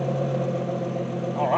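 A BMW E36 with an M50 engine idles steadily, a low even hum close by, with speech-like tones rising briefly near the end.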